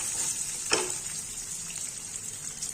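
Pirandai and ridge gourd peel sauté in a hot pan for chutney, giving a steady soft sizzle with one brief stirring scrape, close and quiet.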